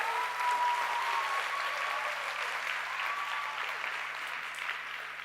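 A large seminar audience at a Kuala Lumpur business academy event applauds. The even, hissing wash of many hands clapping stays steady and fades slightly toward the end, with no one talking over it.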